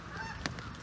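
A single Canada goose honk rises briefly out of a steady outdoor background, moderately distant.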